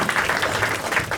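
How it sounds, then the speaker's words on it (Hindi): Audience at a crowd-work stand-up comedy show clapping for Harsh, a short steady burst of applause filling the room with no talk over it. "एक बार ताली बजा दो हर्ष के लिए तुम लोग।"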